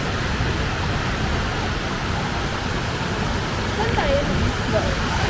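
Beach waves at La Union wash in a steady, broad rushing roar with no distinct breaks, close and even throughout.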